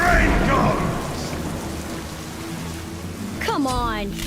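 Rain falls in the video game Smite as a steady hiss that eases slightly midway, and a voice breaks in near the end.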